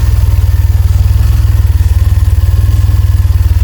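A car engine idles loudly through a stainless steel silencer fed by tubular manifolds, giving a deep, even, rapid pulsing burble that holds steady and close throughout.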